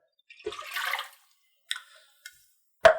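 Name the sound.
water being poured into a bowl for pizza dough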